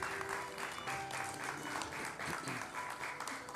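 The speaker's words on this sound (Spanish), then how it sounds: "Fuerte los aplausos para las palabras de la madre" A crowd at a fifteenth birthday party in Lima, Peru claps steadily throughout, a dense and even applause heard from a little distance.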